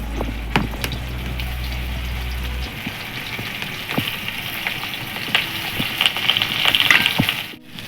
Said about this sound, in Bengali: তেলটা হয়ে গেছে এবার এর মধ্যে পটলগুলো আস্তে আস্তে ছেড়ে দিচ্ছি একটা করে